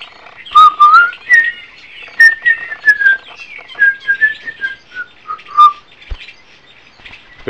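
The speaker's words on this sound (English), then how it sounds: "Been trying to teach him to whistle that tune," Whistled melodic notes, clear and close, in short rising and falling phrases with brief pauses, alone without talk.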